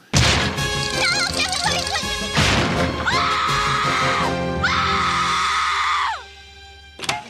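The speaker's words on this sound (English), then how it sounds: "this is some fantastic Tress MacNeille screaming" A cartoon character in a Tiny Toons episode letting out long, loud, wavering screams, voiced by Tress MacNeille, after a burst of crashing commotion, ending in a sudden drop and a brief bang.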